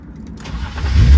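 A turbocharged BMW E36 M3 engine cranks and catches, a short, loud starter whirr swelling into a deep rising roar at close range, no speech.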